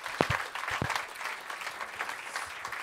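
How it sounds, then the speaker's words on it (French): A comedy club audience claps in a steady wash of applause, with a couple of sharper thumps early on. "Mesdames et messieurs, je vous demande de l'applaudir bien fort"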